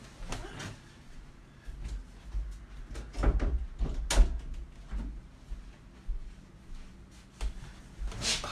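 A closet door is handled and pushed shut indoors, with several sharp knocks and rattles followed by a louder thump as it closes, plus lighter bumps afterward at close range.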